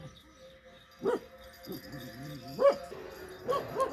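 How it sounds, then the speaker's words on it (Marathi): A dog barks in a few scattered bursts with some whimpering yips between them, fairly close, alongside a little background talk. "बघ कोण भुंकतय कोण आले आता हा पण सुरू करेल भुंकायला"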